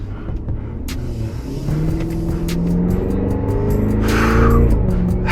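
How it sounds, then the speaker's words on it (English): A Cadillac Escalade V with a 6.2-litre V8 revs hard, its engine rumble swelling and climbing in pitch, with sharp crackling pops from the exhaust scattered through the loud, close run. "there's a lot of good popping from the exhaust on this that you'll hear as well"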